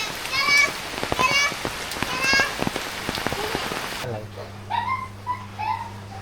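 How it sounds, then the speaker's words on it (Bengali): Heavy rain pours down in a village, a steady loud patter with droplets hitting surfaces, with children and adults talking over it before a quieter stretch with a low hum. "এত বৃষ্টি নামছে"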